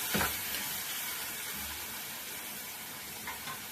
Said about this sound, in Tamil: இது அப்படியே நல்லா எண்ணெயில் வதங்கலாம்